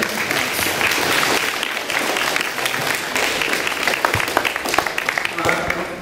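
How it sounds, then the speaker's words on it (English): Applause from a school assembly audience, a dense sustained clatter of many hands clapping for several seconds, steady and fairly loud, with some speech mixed in. "A nice round of applause for George and Chris before we start."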